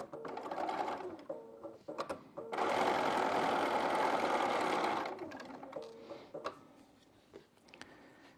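A sewing machine stitching quilted postcard pieces together runs in a loud, steady burst of about two and a half seconds, framed by brief start-stop whirs and soft handling clicks before and after.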